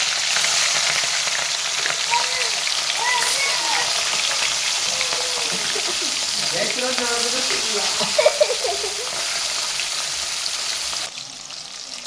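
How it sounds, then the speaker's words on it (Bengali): Pieces of katla fish frying in hot oil in a kadai, a steady loud close sizzle running throughout with occasional stirring scrapes, cut short near the end. "কড়াই তেতে গেছে, মাছগুলোকে দিয়ে দিলাম।"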